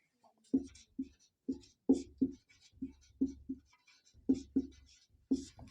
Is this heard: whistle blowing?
no